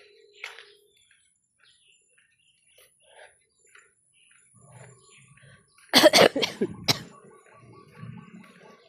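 A burst of several harsh coughs close to the microphone after a mostly quiet stretch with faint scattered sounds.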